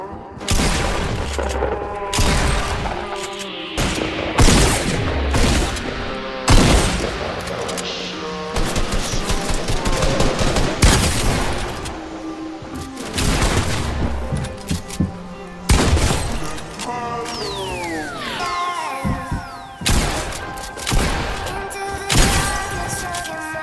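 Rapid bursts of gunfire and explosive booms from the video game Fortnite, with dense volleys and shattering hits repeating loudly throughout, a voice occasionally speaking over the fighting.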